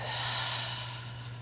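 A single long, steady open-mouthed exhale during a slow yoga flow, close and breathy, carried over a low constant hum without talking.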